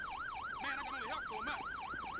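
Wailing police siren from a patrol car in GTA 5, rising and falling in a steady repeating cycle, loud and continuous, with a second siren tone briefly overlapping midway.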